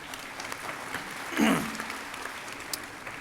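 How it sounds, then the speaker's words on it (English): Applause for Dr. Vidal Rodriguez at a collegiate high school commencement, fairly soft, scattered clapping from the crowd with a brief louder swell in the middle. "give him a round of applause right here"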